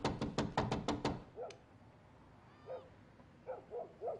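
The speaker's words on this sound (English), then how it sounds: "I gotta get the dog, Uncle Pete." A dog barks six times in a quick, loud burst nearby, then gives softer, higher whining yelps and whimpers in a quieter room.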